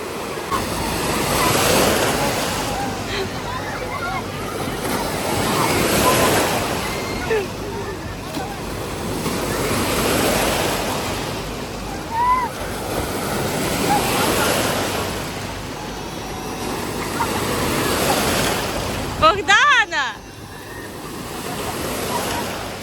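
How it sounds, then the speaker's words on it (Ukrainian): Waves in a thermal baths wave pool switching on, rhythmic surges of rushing water rising and falling about every four to five seconds, loud and close, with scattered voices and a brief clatter near the end. "А ось і хвильки включились."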